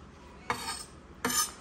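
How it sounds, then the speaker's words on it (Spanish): A knife chops nopales cactus paddles on a board, two distinct crisp cuts about three quarters of a second apart, near and moderately loud with quiet between. "como pueden ver, estoy picando los, así que los nopalitos"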